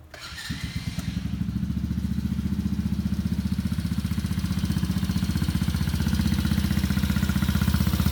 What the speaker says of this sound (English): So Adam's going to give it a start so you can hear it run. Super quiet.